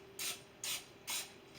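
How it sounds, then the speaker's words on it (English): Butter-flavor cooking spray mists over biscuits in three short, evenly spaced hissing bursts, close and fairly quiet, with a faint steady hum beneath. "we're gonna hit it again with this butter flavor spray"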